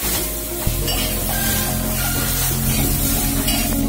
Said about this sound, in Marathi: हा एक जीव मसाला भाजून घ्यायचा आहे सगळं